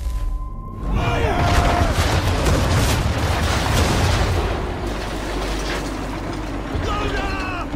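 Cannon fire in the video game Assassin's Creed 3 roars as a heavy, sustained booming rumble after a short pause, with voices calling out over the barrage.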